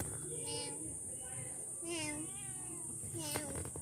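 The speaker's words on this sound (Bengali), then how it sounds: "ম্যাও করছে বাবু পুষি" A pet cat meows indoors in a few drawn-out calls, with people talking around it.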